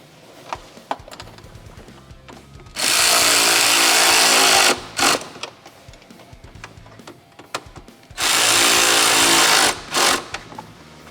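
Windshield catch hardware on a Can-Am Maverick X3 is tightened with a power driver, two loud sustained whirring bursts of about two seconds each, separated by light clicks and handling taps, close up and without talk.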